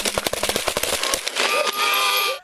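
A rapid burst of sharp cracks, several shots in quick succession, followed by a sustained noisy rumble with a rising tone.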